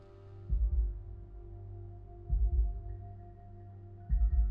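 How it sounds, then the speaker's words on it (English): Slow heartbeat thumps from the horror game Time To Wake Up, three low double-pulsed beats spaced about two seconds apart over a steady droning game hum, with no talking. "I hear some heart beating."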